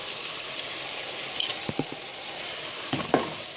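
Onion dropped into a hot frying pan of oil for chtitha lham, a Moroccan meat stew, sets off a steady close sizzle with a few soft clinks and stirring knocks.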